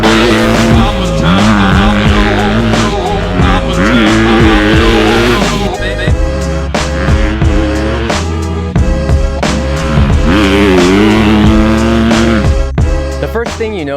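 A 2018 Honda CRF250 motocross bike runs loud and continuous on a dirt track, its engine note rising and falling through repeated revs and shifts with brief throttle chops, with faint voices mixed in.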